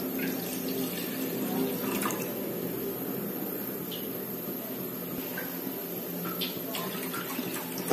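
Water for an herbal immunity decoction runs steadily from a tap into a vessel, a constant close splashing stream lasting the whole span.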